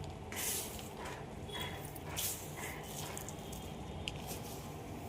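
Potting soil being worked together with fertilizer by hand, soft gritty rustling and crumbling scrunches in uneven bursts, close and quiet over a faint background hiss, with no talking.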